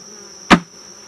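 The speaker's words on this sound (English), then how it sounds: "you're going to slam it on top of a pile of empty boxes" A beehive honey super box slammed down onto a pile of empty boxes, one sharp, loud thud against a steady high buzz of bees.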